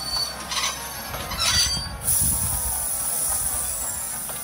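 A cartoon train from Thomas and Friends rolls along with high metallic wheel squeals and a sharp hiss, rumbling and clattering at close range.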